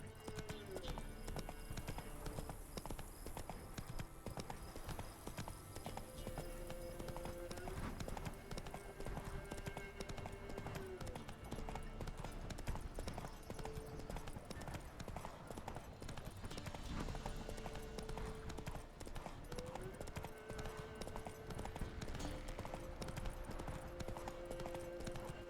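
Roach the horse in The Witcher 3 clip-clops along in a steady hoof rhythm, close and continuous, layered over game music with a brief whinny-like tone.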